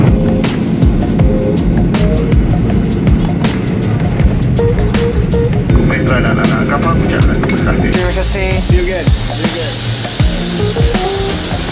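A passenger airplane lands at Kota Kinabalu, heard from inside the cabin as a loud, continuous roar of engines and rushing air that shifts to a harsher, louder tone partway through.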